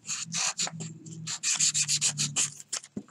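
Sandpaper rubs briskly over a hand-carved wooden fishing lure in quick, rhythmic strokes, close and crisp, with a low hum underneath.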